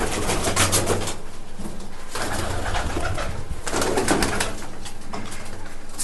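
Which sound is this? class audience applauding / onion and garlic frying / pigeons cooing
pigeons cooing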